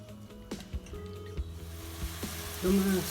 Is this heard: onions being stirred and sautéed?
yes